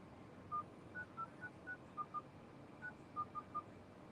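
A phone keypad dialing a number, a rapid series of about a dozen short DTMF beeps in uneven rhythm, clear over a faint hiss, with no talking.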